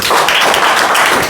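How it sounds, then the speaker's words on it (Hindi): A school class claps together for a moment, a dense, loud burst of applause filling the room with no talk over it. "बहुत अच्छा, ताली बजाइए।"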